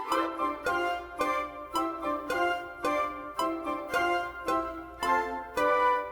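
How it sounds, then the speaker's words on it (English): A small brass section of three horns plays short, punchy chords together in a steady rhythm, each blast cutting off cleanly before the next. "Just 3 horns sound like this."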